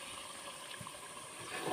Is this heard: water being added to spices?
yes